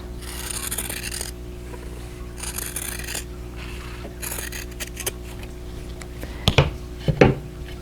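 Quilt fabric being cut in half for a vintage Lily quilt block, heard as steady close-up rasping, scraping strokes in bursts, ending with a couple of sharper snips or clicks near the end, with no talking.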